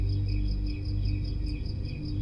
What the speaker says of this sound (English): Let's turn the crickets off.